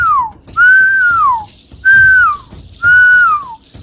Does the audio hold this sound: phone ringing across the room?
no